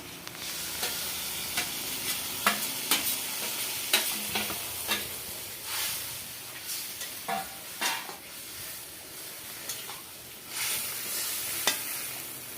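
Fried katla fish scales are stirred into sour tamarind water in a pan, giving a low simmering sizzle broken by a series of sharp scraping and clinking stir strokes at irregular intervals.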